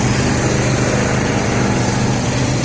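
A 1968 Cadillac Eldorado with front-wheel drive and a 400 transmission idles close by, its engine running smoothly after an ignition overhaul, a loud steady rumble that stays constant throughout.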